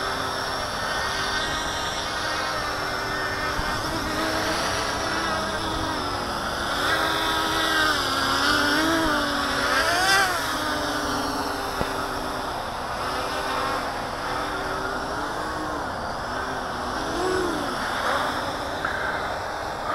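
Tricopter drone in flight with its motors running, a continuous high whine whose pitch rises and dips as the throttle changes, steady and fairly close throughout.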